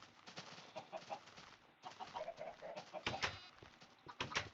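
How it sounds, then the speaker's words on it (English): Minecraft chickens clucking in the video game, a busy overlapping string of clucks and short calls, moderately faint and continuous, with no talk. "let's breed the chickens"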